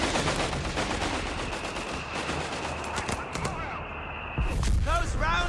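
Rapid bursts of gunfire and incoming rounds rattle steadily through a Company of Heroes 3 battle, dense and continuous, with a voice speaking over the din and heavier thumps near the end.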